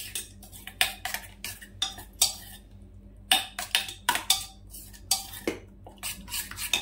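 A spoon clinks and scrapes against a bowl while salt is stirred into a mixture for tandoori cauliflower, in quick, fairly close bursts of scraping with brief pauses between them.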